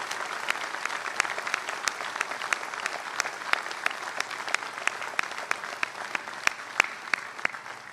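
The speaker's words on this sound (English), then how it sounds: "So how about a big round of applause for the Navy families that are out there" An audience aboard the aircraft carrier USS Harry S. Truman applauding Navy families, steady crowd clapping with some sharp, louder individual claps standing out, sustained throughout.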